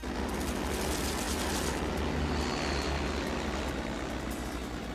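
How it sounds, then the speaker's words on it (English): A propeller plane roars loudly and steadily as it takes off, its engine drone filling the whole stretch without pause. "The plane's taking off!"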